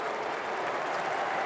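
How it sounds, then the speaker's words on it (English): A cricket crowd at a 2002 match in South Africa applauds a run, giving a steady, even wash of clapping that carries through the whole moment without pause. "And the crowd loving it."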